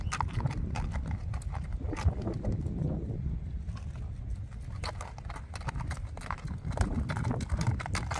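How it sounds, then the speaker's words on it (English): Steady clip-clop of hooves from a Tennessee Walking Horse mare walking at an even pace, close by, with faint wind and creaking in the background. "I'm gonna do a little neck reining action with Miss Sheba"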